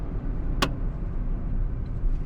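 A 2024 Mitsubishi Mirage with rear drum brakes drives with a low, steady road and engine rumble from inside the cabin, one brief sharp click partway through, no voices.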